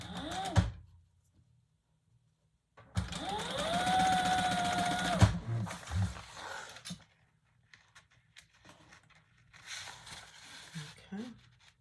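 A sewing machine bastes a piece of leather for a retro-style sling bag. The motor whirs up in a rising whine and holds steady for a couple of seconds before stopping, with short bursts of quieter handling noise around it.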